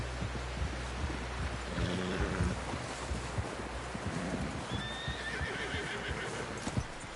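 Horse whinnies and hooves clip-clop in Red Dead Redemption 2, with wind and game ambience running underneath throughout.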